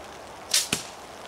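A single arrow looses from a Pathfinder Pocket Hunter, a quick close whoosh followed by a sharp thwack of impact, with quiet background and no talk.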